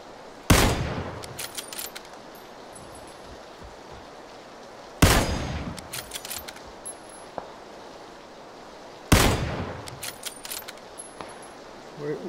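Three loud, sharp gunshots in PUBG, spaced about four seconds apart, each with a ringing tail and scattered metallic clinks in between, over quiet background ambience.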